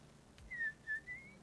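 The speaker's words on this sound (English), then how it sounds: "That's a whistle." Whistling in a movie scene, three short tonal whistled notes in a gliding phrase, faint against a quiet background with no talk.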